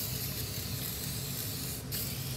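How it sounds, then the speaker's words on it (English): Machinist layout fluid sprays from an aerosol can onto aluminum in one continuous close, steady hiss that fills the short moment with only a brief dip near the end. "You can brush it on, or you can spray it on."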